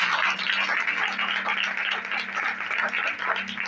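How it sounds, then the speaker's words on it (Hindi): A church congregation at an Easter Sunday service claps together in sustained, dense applause, the sound holding steady and fairly loud from start to finish. "फिर जोरदार तालियां बजाइए।"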